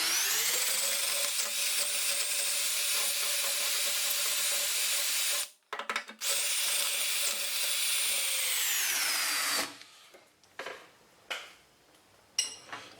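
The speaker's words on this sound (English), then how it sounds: "We'll just try it with the drill," An electric drill runs steadily on an Everclean installation job, a loud continuous high whine for about nine seconds with a brief gap, then stopping into scattered quieter clicks and handling noises.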